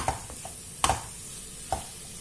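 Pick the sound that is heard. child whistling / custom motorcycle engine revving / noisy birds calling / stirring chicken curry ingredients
stirring chicken curry ingredients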